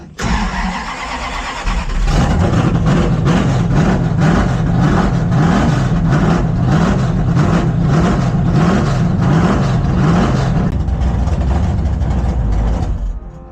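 Big-block V8 in a 1974 Plymouth Scamp running on a poorly tuned carburetor, a loud, close rumble that catches at about two seconds and then holds a steady, lumpy idle with a pulsing low-end beat.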